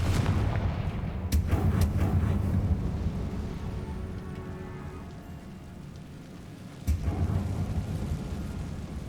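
A Confringo fire spell blast in Hogwarts Legacy: heavy booming explosions with rumbling tails, a dense cluster early on, then quieter rumble and a second sharp blast near the end.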